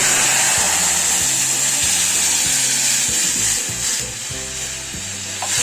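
Tamarind mixture for Andhra chinthakaya menthi charu hits a hot kadai on the stove, giving a loud, steady sizzle and frying hiss with soft stirring scrapes throughout.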